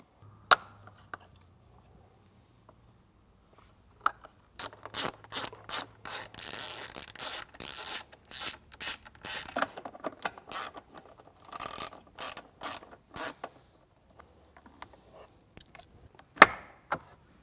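A ratchet backs out the 10mm grab handle bolts on a Jeep Wrangler JL, with close, crisp clicking bursts in irregular runs and brief pauses between turns, set against near silence.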